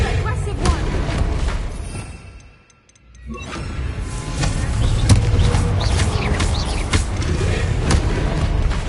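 A Bombarda explosion spell cast in Hogwarts Legacy, with booming blasts and crackling bursts layered over continuous dense game noise. A brief quiet dip interrupts it before it swells again, loud and close.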